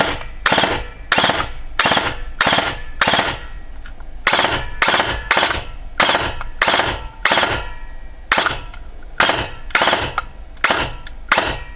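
A T238 gel blaster fires in 3-round burst mode, loud, sharp clusters of three rapid shots repeating at a steady pace with brief pauses between bursts, close up and without talk.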